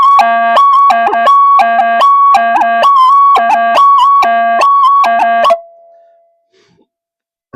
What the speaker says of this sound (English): if I just put these back into phase, there is a racket and a half. It really is noisy.